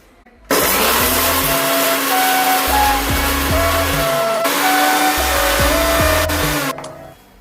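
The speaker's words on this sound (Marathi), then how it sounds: "हे आपण मिक्सर मध्ये ह्याचं वाटण करून घेऊया।" A kitchen mixer grinder grinds garlic, green chillies and peanuts into a coarse paste. Its loud, steady motor whine and churning run for about six seconds, rising and dipping as the jar contents shift, then cut off.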